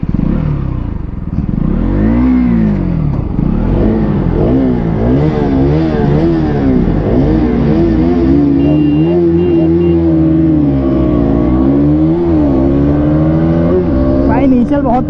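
KTM Duke 200 and Bajaj Pulsar RS200 motorcycles launching in a drag race, engines loud and close as they rev and climb through rising, falling gear changes for the whole stretch.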